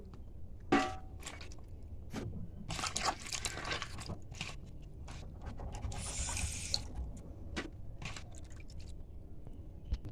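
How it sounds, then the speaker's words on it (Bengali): Peeled potatoes being washed by hand in a metal plate of water, with splashing, sloshing and knocking of the potatoes against the dish in uneven bursts, close and moderately loud. "আলু যেহেতু ছাড়িয়ে ফেলেছি, ভালোভাবে ধুয়ে এক সাইডে করতে হবে।"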